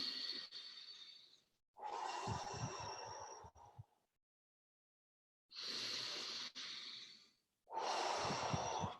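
Deep, slow breathing during a guided breathwork session, long loud inhales and exhales in repeated cycles with a silent pause between, close and alone.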